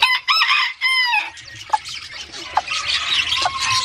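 Hens cluck and squawk on a Brazilian farm where a brooding hen is raising chicks, with a short crow-like call at the start followed by scattered near clucks and a steady background of farmyard noise.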